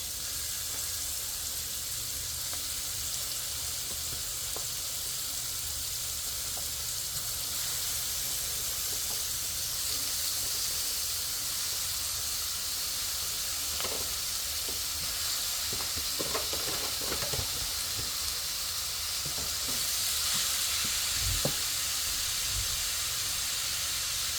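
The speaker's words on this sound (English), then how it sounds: "To give this a good mix. So the meat begins to cook." Meat pie filling sizzles steadily in hot oil for a long stretch, with scattered scraping and clinking of a utensil stirring the pan partway through; no one speaks.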